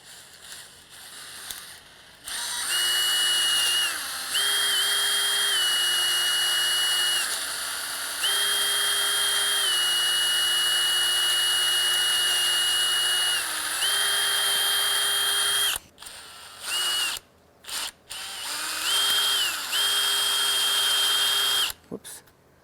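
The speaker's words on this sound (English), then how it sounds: "So let me get my drill and let's drill this out." Power drill boring out a loose screw hole in a door latch, its motor whining at a steady pitch in long sustained runs with brief speed changes, then several short stop-start bursts near the end.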